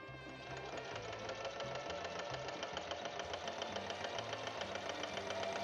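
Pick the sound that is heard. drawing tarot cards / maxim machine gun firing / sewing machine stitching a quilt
sewing machine stitching a quilt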